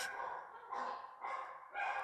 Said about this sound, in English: Hear all those dogs barking in the back?